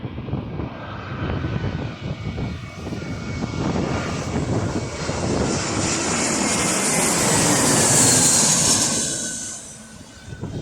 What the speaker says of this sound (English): I think it's an A320's plane.